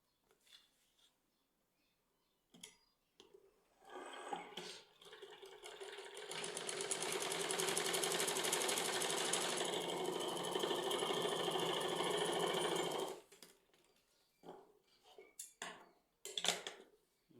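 A sewing machine stitches along a belt, running steadily for about seven seconds at close range, framed by scattered clicks and handling of the fabric before and after.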